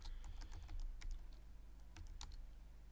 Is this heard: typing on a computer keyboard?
yes